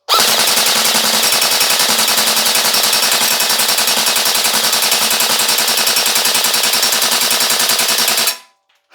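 BARRA Black Ops M4 Viper MK5 electric airsoft rifle on its stock 8.4 volt battery firing one long full-auto burst, a loud, dense, steady mechanical rattle of rapid shots running about eight seconds before stopping abruptly.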